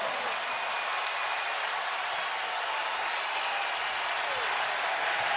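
A basketball arena crowd cheers and applauds in a dense, sustained roar during a Marquette versus UConn game, with no break in the noise.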